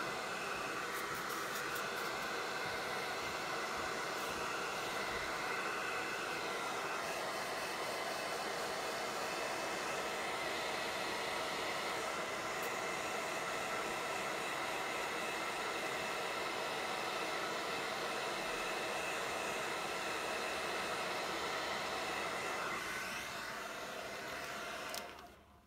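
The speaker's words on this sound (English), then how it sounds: "The hair dryer really helps." A hair dryer blows steadily at close range, a loud continuous roar that runs without a break and cuts off at the very end.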